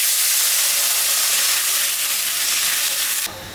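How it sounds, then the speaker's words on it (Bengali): Water hits a hot wok and sends up a loud, continuous broadband hiss of steam that holds steady for several seconds, then drops abruptly to a quieter simmer, close up and with no talking. "এখন আমি কড়াইয়ের মধ্যে জল দিয়ে দিলাম।"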